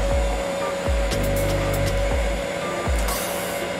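A heat gun blows a steady hot-air roar onto the painted surface of an old gas-powered RC Citabria airplane, with a constant whine and occasional soft clicks underneath, close and continuous.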